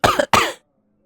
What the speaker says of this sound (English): Chrysalis coughed into her hoof a few times.